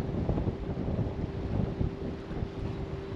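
Gusty wind on the Norfolk Broads in July buffets the microphone with low, rumbling bursts, loud and close, rising and falling over a few seconds.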